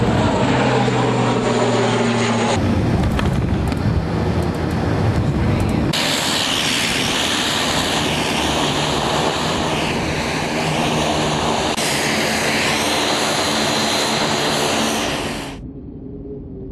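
A propeller airplane flies near Ísafjordur in northwest Iceland, its engine drone loud and steady for about fifteen seconds with shifting tones, then cutting away abruptly.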